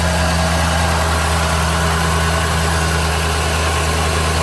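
A 1981 GM Dual Jet carburetor engine idles on fast idle with its choke warming up, a steady, loud, even drone with constant vibration and nothing else over it.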